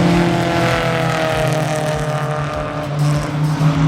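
A 40-year-old Toyota race car in an endurance race roars past up the inside into turn 1, its engine loud and close with a steady droning note over other cars on track.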